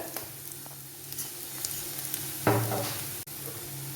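Sautéed onions with pepper powder stirred in a frying pan, a steady close sizzle with scraping stirs and a sharper burst of frying midway.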